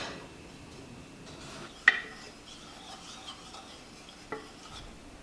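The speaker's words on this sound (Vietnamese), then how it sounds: "bật lửa và khuấy cho tan muối" A spoon stirs salt into water in a pot over a lit burner while pickling radishes, giving soft faint scraping and swirling with two sharp clinks against the pot, no talk.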